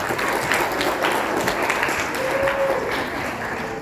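Students clapping in an Indonesian-language university class, a steady dense patter of applause filling the room at moderate level with faint voices underneath.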